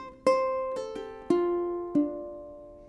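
Four plucked ukulele notes at a steady, unhurried pace, each ringing and fading before the next, playing a phrase from the second half of the Star Wars Cantina Band tune; close and clear with no talking.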